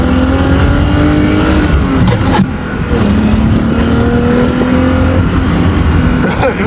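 An engine-swapped BMW E30 idles and revs close by with a steady, throaty drone and small pitch shifts, heard from inside the car.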